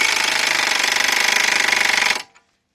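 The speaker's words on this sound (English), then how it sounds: "Get our air gun" A pneumatic air impact gun tightens a castle nut on the left drive axle of a 2004 Hyundai Elantra with a 1 1/4 inch socket, giving a loud, close, rapid hammering burst of about two seconds that stops abruptly.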